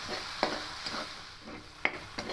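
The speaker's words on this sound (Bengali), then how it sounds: "এবার এই হলুদটা দিয়ে খুব ভালো করে ডালটাকে একটু কষিয়ে নেব" Raw moong dal with turmeric is stir-fried in a pan: spatula scrapes and a couple of sharp knocks over a faint, steady sizzle, close by.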